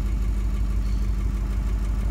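A 7.3 diesel engine with its turbo disconnected struggles to idle, a deep, close, continuous rumble with a slightly uneven low-end throb.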